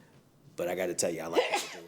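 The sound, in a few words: sneeze during a meeting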